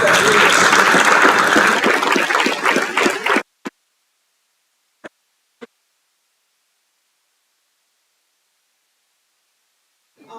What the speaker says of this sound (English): Give a round of applause for our students